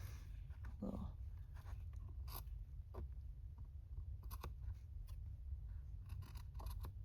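Scissors snip through stretchy t-shirt fabric in a series of quiet, irregular cuts over a steady low hum, each snip faint and close.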